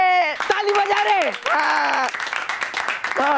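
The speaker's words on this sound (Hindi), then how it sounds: "ये ताली बजा रहे।" Clapping in an animated superhero children's series, with scattered claps mixed under loud, continuous cartoon voices and other effects.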